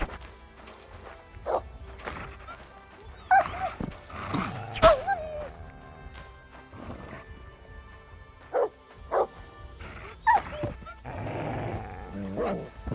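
A dog barks repeatedly in Kingdom Come Deliverance 2, with sharp yips and bow-wow barks in scattered bursts among whimpers and game ambience, fairly close, with a brief voice nearby.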